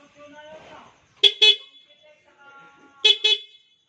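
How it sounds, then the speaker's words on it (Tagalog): The stock horn of a 2020 Yamaha NMax motorcycle honks twice in quick pairs, loud and close, with quiet background hum between the blasts. "try muna natin kung gumagana yung ating stock na busina."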